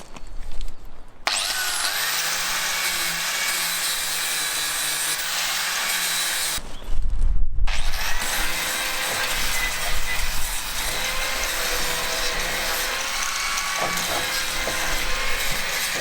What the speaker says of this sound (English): So now I've got my angle grinder, I put a flapper wheel on there, and I'm just going to grind off